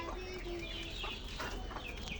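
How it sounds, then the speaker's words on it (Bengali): Laying hens in a coop clucking repeatedly at close range, a busy overlapping series of short calls over faint background noise. "ডিম পাড়া মুরগি আর কি"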